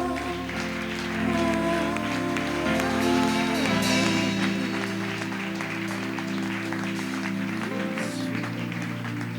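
A church congregation claps and acclaims the Lord, sustained applause mixed with music and voices, loud and continuous throughout.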